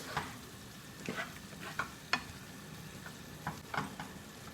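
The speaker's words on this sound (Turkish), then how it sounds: "Baharatlarımızı da karıştırıyoruz." Spoon strokes stir black pepper and cumin into a karnıyarık ground-meat filling in a pan, giving soft, intermittent scrapes and clicks over a quiet, steady sizzle.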